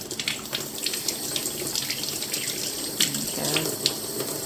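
Warm tap water runs steadily into a sink while a Color Reveal Barbie doll is rinsed under it, with a continuous splashing gush and a few sharper splashes near the end.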